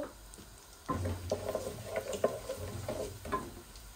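Four crushed whole garlic cloves frying in a pan for naga chili pickle, a quiet, close sizzle that rises after a short pause, with scattered crackles and spoon stirs and no talk.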